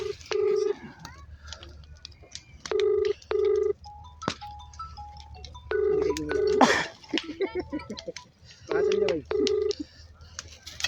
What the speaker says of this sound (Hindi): तो आप पार्षद को कॉल लग रहा है